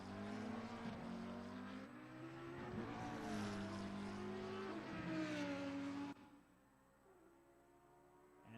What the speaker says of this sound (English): Let's have a listen to this car.